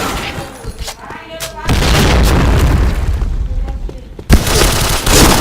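A grenade explosion in the first-person shooter Point Blank, a loud broad boom that swells and holds for several seconds, then cuts off and returns with another burst, amid gunfire-like clutter in a busy match.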